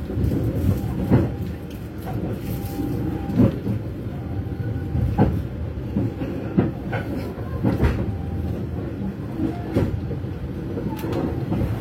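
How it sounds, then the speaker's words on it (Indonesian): The Jayakarta economy train pulls into Lempuyangan station in Yogyakarta, a low rumbling roll punctuated by repeated clanks and knocks of the carriages as it slows, heard from on board. "Saat ini perjalanan kereta api Jayakarta sudah tiba di stasiun Lempuyangan"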